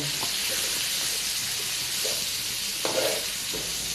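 Food being stir-fried in a hot pan, steady broadband sizzle throughout with occasional scraping stir strokes, close and moderately loud, no talk.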